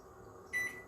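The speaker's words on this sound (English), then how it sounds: "Let's get a 15-minute timer." A kitchen timer being set to 15 minutes while soup simmers on the stove, giving one short, fairly faint electronic beep over low kitchen background hum.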